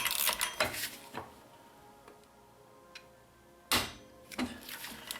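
A torque wrench tightens the primary clutch on a 2023-or-later Gen 5 Ski-Doo snowmobile, giving sharp metallic ratchet clicks in short bursts, close and fairly loud, separated by quiet pauses with faint ticks, no voices.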